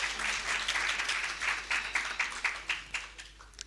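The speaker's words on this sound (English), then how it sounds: "I request all the participants to have a loud applause" Audience applause at a foundation day conference on valuation, a steady crowd clapping that swells and then thins into scattered individual claps over a few seconds.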